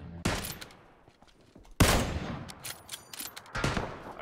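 Bursts of gunfire in the PUBG battle royale game, several sharp close volleys and rapid shots separated by quieter gaps, loud and alone without talk.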